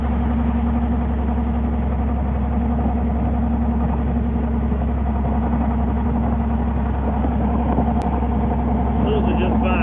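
A vehicle engine drones steadily in 6th gear at around 55 mph while towing a camper, a loud, constant low hum that continues without a break.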